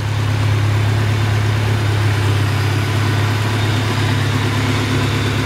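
A Honda Accord CB7 engine idles steadily, with the EGR deleted and a ram intake from a BB6 Prelude. It gives a continuous, fairly loud, even hum and rumble with no voices.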